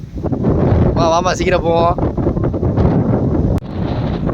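Strong wind buffets the microphone outdoors at a property site, a loud constant roar, while someone speaks briefly over it.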